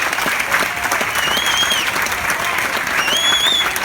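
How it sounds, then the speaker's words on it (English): A crowd applauds for a winning racer and his crew, dense steady clapping close and loud for a few seconds, with faint whoops above it. "A round of applause for Richard Thompson and his entire crew."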